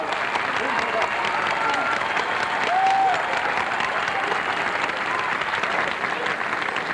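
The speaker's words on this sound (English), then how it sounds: "Let's give them all a round of applause." Crowd in a stadium at a marching band competition claps steadily for participation awards, a broad, loud wash of applause with some crowd noise mixed in.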